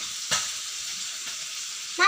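Fish fries in hot oil, giving a steady, bright sizzle throughout, with a sharp burst of crackle near the start and again at the very end as the pieces are stirred.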